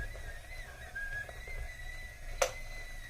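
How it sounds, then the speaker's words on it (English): A kettle boiling water gives a thin, steady whistle that wavers in pitch, quiet under a low background rumble, with one sharp click near the end. "Do you hear that whistling? It's just a Kettle."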